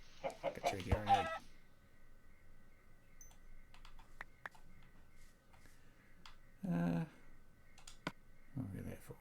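Short clucks from a chicken in the video game Minecraft, heard briefly between stretches of quiet play with clicking sounds and a few words of talk nearby.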